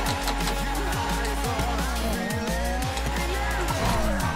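Continuous high tire squeal from a BMW M4 drifting in GTA 5, under a loud, revving engine that repeatedly rises and drops in pitch with each shift.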